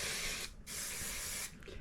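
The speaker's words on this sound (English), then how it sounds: "let's add a little hairspray to the mix" Hairspray hisses from an aerosol can onto styled hair in two close, steady bursts, one short and one longer, separated by a brief pause.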